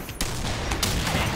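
Gunfire from an M107CQ sniper rifle in the video game Combat Arms, two sharp loud cracks about half a second apart over a noisy, busy game background.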